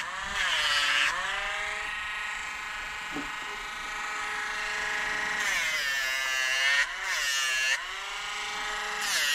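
Dremel rotary tool grinding an Australian Shepherd's nails, a steady high-pitched motor whine that dips in pitch each time it presses against a nail, in several short bursts close by.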